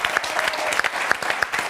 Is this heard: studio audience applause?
yes